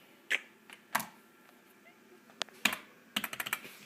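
Keys on a computer keyboard are struck in scattered taps and short bursts, close and fairly quiet, ending in a quick run of keystrokes, during setup of an older computer being prepared for a Leopard install.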